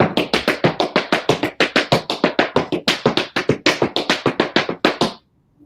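Tap dancing steps with a shuffle and heel drops patter in a quick, even rhythm of about thirty crisp, close taps with accented beats, then stop abruptly into silence.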